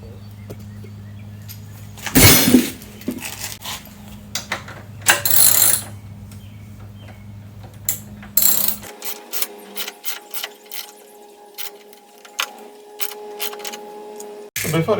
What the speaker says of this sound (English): we are going to tighten this bolt as well as this one